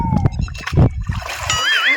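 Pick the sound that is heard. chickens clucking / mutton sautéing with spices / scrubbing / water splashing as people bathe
water splashing as people bathe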